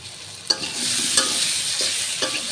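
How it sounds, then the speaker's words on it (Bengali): Spices for a fish curry with potato and tomato sauté in a hot pan, a close, steady sizzle broken by three or four sharp spoon scrapes against the pan, with no talking. "একটু কষিয়ে তারপরে পরিমাণ মতো জল দিয়ে দিব"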